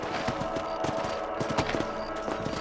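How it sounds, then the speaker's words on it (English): Rifle shots aimed at rabbits in the video game Red Dead Redemption crack out in a dense, irregular string of sharp reports over a steady busy game background, with no speech. "You're better at shooting rabbits than outlaws"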